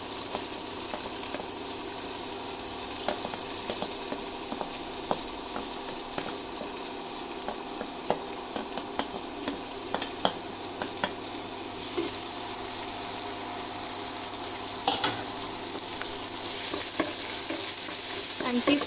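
Onions, curry leaves and green chili frying in hot oil, a continuous loud crackling sizzle with scattered pops and occasional stirring scrapes, heard close and alone throughout.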